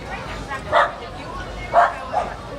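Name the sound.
dogs barking at a street parade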